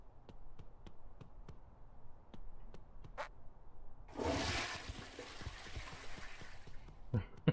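Water running from a tap in the video game Wobbly Life, a steady hissing rush that comes in after quiet clicks and keeps flowing, with a few small knocks near the end.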